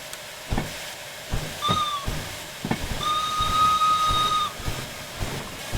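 A steam locomotive whistle in a train simulation game sounds twice: a short toot, then a longer sustained blast, over rhythmic chuffing and hissing steam.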